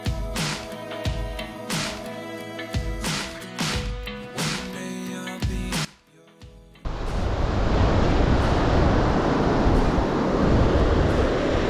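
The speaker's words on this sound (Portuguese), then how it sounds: "o som do mar, o som das ondas" Sea waves roll onto the beach at Candeias in Jaboatão during high tide, a loud continuous surf roar with wind, after a stretch of music that ends with a short pause.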